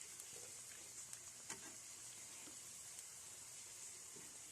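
Potato and cauliflower pakoras fry in hot oil, a steady soft sizzle and hiss with occasional small pops and crackles, quiet and continuous with no voices.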